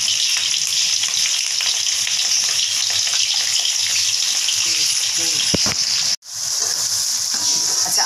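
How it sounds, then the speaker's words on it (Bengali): Chopped beans and carrots frying in hot oil for chilli soybean, a steady, loud, close hiss of sizzling that runs unbroken, with one brief sharp dropout near the end before the frying noise swells back. "এবার সবজিগুলোকে ভাজবো।"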